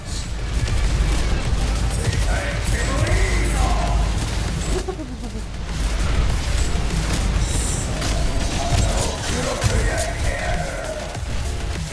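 Enemy laser fire in the shooter Deadlink: a dense, loud, unbroken barrage of blasts and booming impacts that fills the whole stretch, with no clear talk over it.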